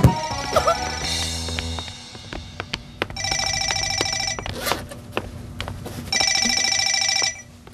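A telephone rings in two long electronic bursts inside a home, each lasting about a second, over a softer background with brief earlier sounds and no talking.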